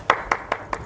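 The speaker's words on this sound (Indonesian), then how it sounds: "Berikan tepuk tangan yang meriah." Four slow, evenly spaced hand claps ring out at an award ceremony for a pesantren media film festival in East Java, moderately quiet and close, with no other sound between them.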